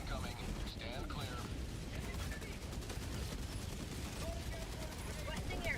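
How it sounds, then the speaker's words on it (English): Dense rolling gunfire and explosions from an orbital barrage in the video game Helldivers 2 rumble steadily, with continuous booms and crackles under a voice speaking. "Orbital barrage incoming."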